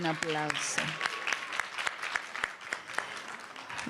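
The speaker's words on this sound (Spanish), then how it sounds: "un aplauso" Audience applause at a Spanish-language panel discussion on building networks and strategic alliances, a dense, steady round of clapping with a voice speaking over its opening moments.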